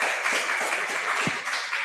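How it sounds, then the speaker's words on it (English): A small group at a prayer ministry training session claps steadily, a soft, continuous ripple of applause that stays fairly even throughout. "So you can start rippling a little bit of applause"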